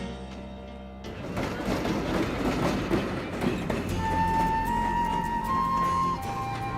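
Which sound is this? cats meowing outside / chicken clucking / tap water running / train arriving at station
train arriving at station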